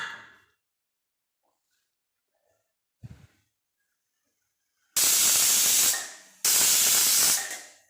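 Pressure cooker cooking mixed vegetable dalia on a gas stove lets out two long, loud bursts of hissing steam whistle, each lasting over a second, after a brief soft clunk and near silence.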